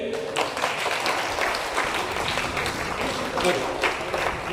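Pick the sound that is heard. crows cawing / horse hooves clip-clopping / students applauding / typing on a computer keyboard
students applauding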